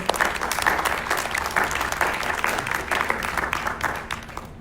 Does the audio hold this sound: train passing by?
no